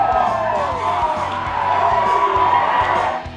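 A packed standing-room crowd at a pep rally for the 2019 Valero Alamo Bowl cheers and whoops loudly, a steady roar of voices sustained throughout before easing at the end.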